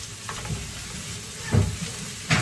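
Onions and carrot stir-frying in a pan with chilli powder, a soft continuous sizzle with occasional scrapes and stirring knocks close by.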